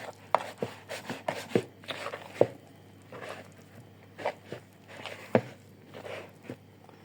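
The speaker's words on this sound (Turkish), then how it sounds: "İşte böyle böyle yoğuruyoruz." Bread dough being kneaded by hand at home, a run of soft, close slaps and squishy presses in an uneven rhythm, quiet between strokes, no talking.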